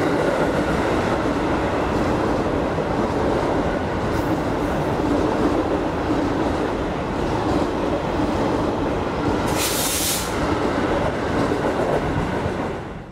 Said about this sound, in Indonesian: Sekarang ini saya sudah berada di dalam kereta api Pangandaran yang bakal saya naiki menuju ke Banjar ya